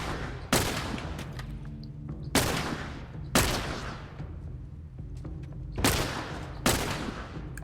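Gunfire in The Last of Us game comes as five loud, sharp blasts spaced irregularly over several seconds, each ringing out and decaying into quieter background.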